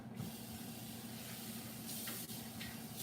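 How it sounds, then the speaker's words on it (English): A tap runs steadily while a container is rinsed at a kitchen sink, a close constant hiss of water with brief splashing shifts near the end and no speech. "Let me rinse this out."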